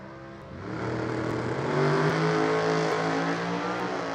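At an NHRA divisional drag race, two cars launch off the line with a deep, rising engine roar that swells quickly and holds loud and close.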